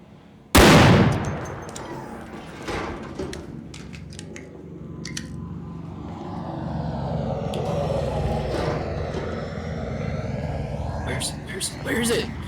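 Gunfire aimed at the Rocketeer enemy in the video game Arc Raiders: one sharp, loud blast near the start, followed by a sustained rumbling game soundscape with scattered clanks and metallic hits toward the end.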